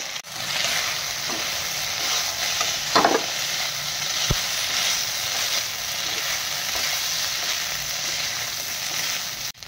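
Vegetables for Schezwan crispy veg sizzle and hiss in a hot wok while being stirred quickly, with occasional scraping clinks of a utensil, steady and close.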